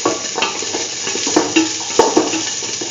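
Shallots frying and being stirred in a pan, with steady close sizzling and a series of sharp spoon-on-pan scrapes and knocks throughout.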